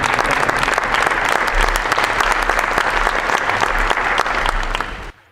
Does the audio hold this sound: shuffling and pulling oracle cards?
no